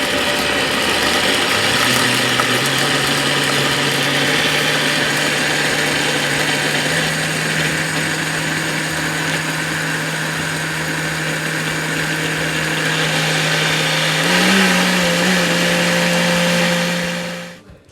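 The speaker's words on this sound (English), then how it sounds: "I put them in the blender" A blender blending peppers whirs steadily for most of the clip, a grinding motor drone with a brief pitch change near the end before it winds down.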